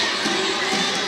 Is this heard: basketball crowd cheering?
yes